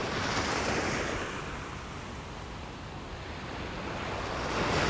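Rough ocean waves crash and wash through a pass by a North Naples, Florida beach, forming a continuous broad roar that swells toward the end, mixed with wind noise.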